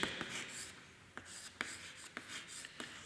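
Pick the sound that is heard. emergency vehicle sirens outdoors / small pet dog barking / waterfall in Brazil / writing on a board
writing on a board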